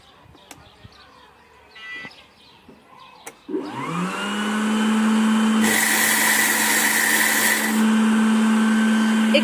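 A small shredding machine spins up with a rising whine into a steady, loud motor drone, with a brighter grinding burst partway through as material is fed in for mixing in a wheelbarrow; a few clicks and faint movement come before it starts.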